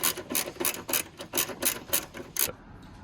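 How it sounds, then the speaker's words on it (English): A ratchet tightens 10mm bolts on the AC accumulator of a 2008-2012 Ford Escape V6 3.0L, giving about nine quick, rhythmic bursts of rasping clicks, close and clear, before stopping. "Right now, connecting back the 10mm bolts."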